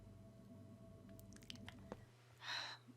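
Wet slime squishes in Minecraft, a cluster of soft squelchy pops and one sharp splat, then a louder hissy burst near the end, over a low steady game hum.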